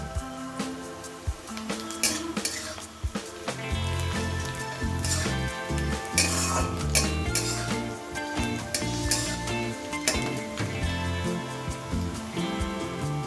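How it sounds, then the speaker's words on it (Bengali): Onions frying with whole cumin seeds in a pan for a Bengali fish-head dal, giving a steady close sizzle with scattered crackles and spoon scrapes under faint background music. "পেঁয়াজটা ভাজতে ভাজতে এর মধ্যে আমি অ্যাড করে দিচ্ছি ওয়ান স্পুন গোটা জিরে"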